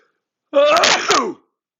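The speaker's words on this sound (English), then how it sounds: "I'm going to sneeze. I can't hold it back." A single loud, wet sneeze bursts out abruptly, close and brief, followed by silence.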